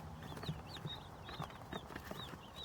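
Newly arrived meat chicks peep in high, repeated chirps scattered across a faint, steady background, with no voices.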